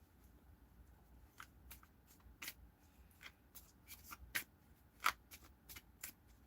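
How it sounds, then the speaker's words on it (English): Tarot cards are shuffled close by at a tarot reading, with soft, irregular riffling and flicking snaps that build to a few sharper slaps of the deck, with no talking. "Shuffle."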